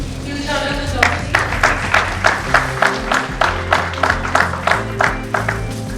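At a corporate summit panel event, an audience claps for a guest being presented a bouquet; steady rhythmic unison claps ring out over a room hum and faint music, continuing throughout.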